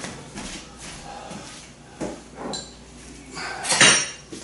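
Metal parts of a commercial-grade Cabela's Carnivore meat grinder, including gear and blade, clink and clatter during assembly, with a few sharp knocks near the end; no speech.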